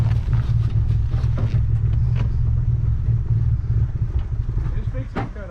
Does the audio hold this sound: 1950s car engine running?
yes